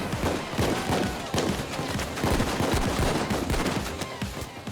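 A Deagle pistol fires repeatedly in Payday 2 amid a busy firefight, with sharp, loud shots arriving in quick irregular bursts over continuous background combat noise.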